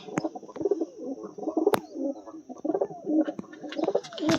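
Pigeons coo repeatedly in a loft on a calm day, soft rolling calls overlapping close by, with brief sharp flaps or knocks between them.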